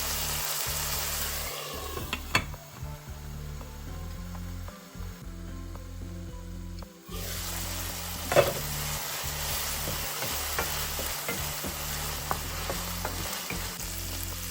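Turkey berries (sundakkai) being stir-fried in a pan with salt: a steady sizzle with scraping and clinks of a spatula stirring, briefly dropping quieter in the middle before the frying noise returns, with no voices.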